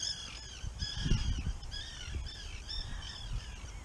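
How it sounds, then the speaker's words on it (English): A flock of black birds at a small boat harbor calls in repeated harsh, cawing bursts, steady and moderately near, with low rumbling wind or water noise underneath. "I'm gonna go over there where all the birds are."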